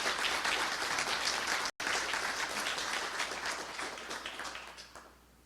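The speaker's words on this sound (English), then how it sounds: "Quick round of applause for them, just anyways, please." Applause from the audience at a tech conference talk, a full, steady wash of clapping with a brief cut partway through, then tapering off toward the end.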